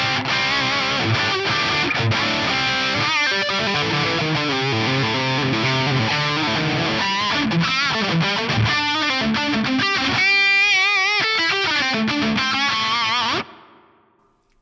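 Distorted electric guitar plays a busy melodic line drenched in lush plate reverb, ringing on and then cutting off, its tail fading briefly at the end.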